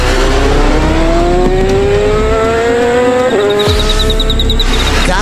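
A cartoon vehicle's engine revs loudly with a rising whine, then its tires screech into a skid with a sharp pitch drop, followed by a rattling squeal, all close and loud.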